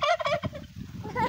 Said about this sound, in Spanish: ¿Qué hace el pavo?